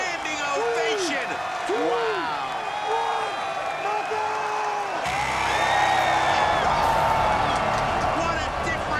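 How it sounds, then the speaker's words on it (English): A BattleBots arena crowd rises in a standing ovation for Team Witch Doctor, their applause and cheering a broad, continuous roar that swells in the second half beneath excited commentary and whooping voices. "Mike Galantly and Team Witch Doctor getting a standing ovation"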